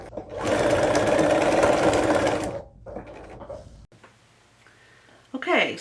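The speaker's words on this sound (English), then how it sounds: "Okay, then turn and start stitching again." A sewing machine stitches a Laura Ashley bag made from a McCalls pattern, running loud and steady for about two seconds, then stopping; softer handling noises and a voice follow.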